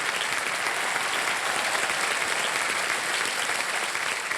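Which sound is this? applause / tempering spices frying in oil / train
applause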